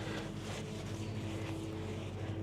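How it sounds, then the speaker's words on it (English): Distant tractors mow hay across neighboring fields, making a low, steady engine drone. The rumble is faint and continuous under the open-air wind, with no voices nearby. "all my neighbors are mowing hay today."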